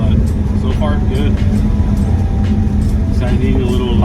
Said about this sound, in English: Bumpy road here, we can put the wheels to the test